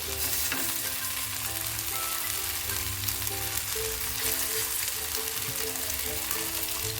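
Chicken tikka pieces fry in a pan over a low gas flame, giving a steady, dense, close sizzle and crackle throughout, with faint tonal music underneath.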